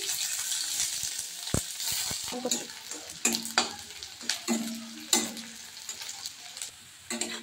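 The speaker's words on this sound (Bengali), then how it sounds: "জিরাটা ভাজা হয়ে গেছে, এর মধ্যে দিয়ে দেবো পেঁয়াজ কুচি।" Chopped onion is dropped into hot oil with dried red chilli and cumin, giving a strong continuous sizzle broken by repeated sharp scrapes and knocks of a spoon stirring the pan.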